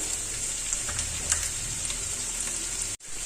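Chopped tomato and capsicum sautéing in a hot pan, a steady close sizzle with faint stirring scrapes and one brief cutout near the end.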